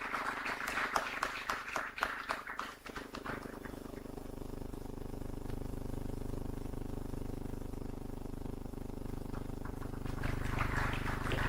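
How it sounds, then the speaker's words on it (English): At a felicitation ceremony, an audience breaks into applause: a few seconds of rapid, fairly faint clapping that fades into a steady hall hum, with a light swell near the end. "Please give a huge round of applause."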